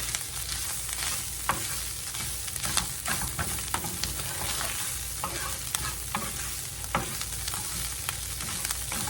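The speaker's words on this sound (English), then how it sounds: "That way I can stir it up with my flour that I got in there." Flour cooking in a pan for an enchilada casserole, a loud steady sizzle with frequent sharp scrapes and taps of a spoon being stirred, up close and free of speech.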